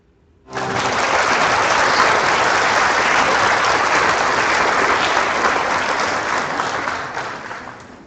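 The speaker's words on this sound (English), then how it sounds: "We're gonna get some cheering." Loud cheering and applause from a crowd in the Magic: The Gathering Online video game, starting abruptly and sustained as a dense wash of clapping that slowly tapers off near the end.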